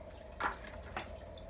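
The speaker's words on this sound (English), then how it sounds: "So just get some tank water and put it in" Tank water poured into a hang-on-back aquarium filter to prime its pump, heard as two short splashy drips about half a second apart, soft and close, with no voices.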